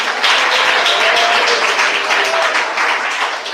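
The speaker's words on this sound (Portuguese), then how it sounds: "Palmas e glória a Jesus." Congregation applauding during a church service, a steady dense roar of many hands clapping together, loud and sustained throughout.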